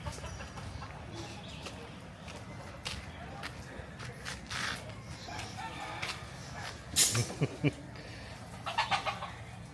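Chickens cluck and a rooster crows nearby over outdoor background noise at a Thai temple in Sichon, with a louder burst of calls toward the end.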